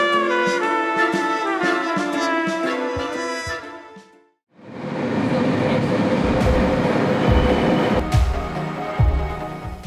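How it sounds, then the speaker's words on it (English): A train rumbles loudly in the Netherlands, heading to Rotterdam, with rhythmic clatter and a brief quiet gap; earlier a tonal, musical-sounding chime or horn-like passage rings out before the rolling noise. "Then it was onto the train to Rotterdam"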